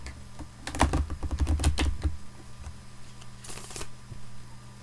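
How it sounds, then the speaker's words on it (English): A Crowley Thoth tarot deck is shuffled up close, a quick run of crisp overlapping clicks and flicks, then a softer rustle after a pause. "let's shuffle the deck."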